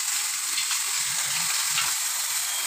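Chicken stew with tomato and coriander frying and being stirred in a pan, a bright continuous sizzle with soft scraping stir strokes underneath, close and steady, no talking.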